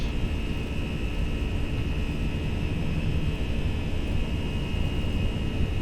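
An Airbus A319 in a flight simulator game rolls down the runway for takeoff, producing a constant broad jet engine roar with a steady high whine, unchanging throughout and with no talking.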